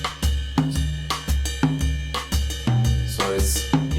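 An Afro-style drum loop whose swing sits between 3/4 and 6/8 plays on its own, with strong, evenly spaced kick-and-percussion hits in a repeating pattern, close and loud.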